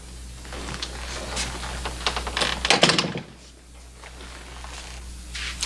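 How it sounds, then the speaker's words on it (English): A door shut indoors in a western drama scene, one firm close thud near the middle, preceded by light shuffling and creaks against a quiet steady hum. "Close the door."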